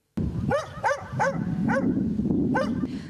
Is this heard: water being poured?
no